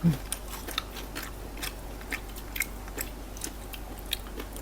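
Crisp fried fish in a spicy star gooseberry salad is chewed close up, with soft repeated crunches and bites scattered over a quiet background.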